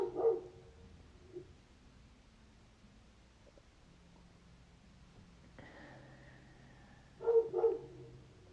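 A dog barks in the background in short, muffled bursts, a couple near the start and a louder cluster near the end, with quiet low murmuring in between.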